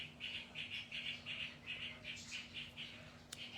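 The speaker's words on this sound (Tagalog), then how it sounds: "Medyo maingay yung ating mga ibon sa labas." Birds outdoors give a quick run of repeated high chirps in a steady pulsing rhythm, faint and somewhat distant, over a low hum.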